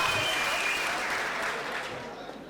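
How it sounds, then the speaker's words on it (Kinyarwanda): A crowd applauds in a sustained burst of clapping, fairly loud and continuous throughout. "Hagati aho ngaho mwamwumvira amashyi"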